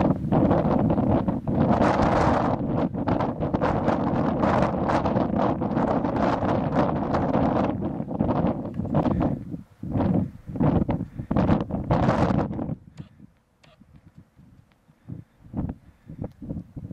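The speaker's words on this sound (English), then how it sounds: "It's really windy and it's a long way down" Strong wind buffets the microphone at the top of the Sierra Buttes mountain lookout tower, a loud continuous roar with gusty bursts that eases off near the end into softer, intermittent gusts.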